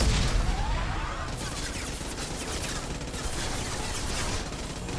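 Rockets and gunfire in the video game Mass Effect 2, a dense, continuous barrage of shots and blasts at steady loudness throughout.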